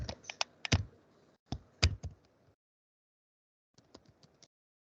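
Keys tapped on a computer keyboard while entering text into a Python console: quick irregular bursts of crisp clicks, a pause, then a final short run of lighter taps, close and with no talk.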